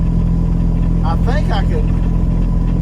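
Steady low drone of a semi truck engine held in 14th gear while descending a grade, a constant deep rumble with a brief spoken phrase over it.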